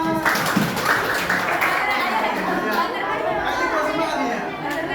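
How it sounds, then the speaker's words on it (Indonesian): A group at an academic supervision workshop claps for their team's score, with loud chatter and laughter nearly burying the scattered clapping throughout. "Mana tepuk tangannya?"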